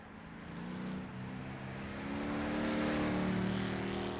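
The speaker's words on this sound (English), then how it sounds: "You can just hear the modulation on the throttle going through the corners." Race car engine in rFactor 2 at the Targa Sicilia event, droning and rising in pitch as the throttle is modulated through corners, a steady mid-level hum that swells toward the end.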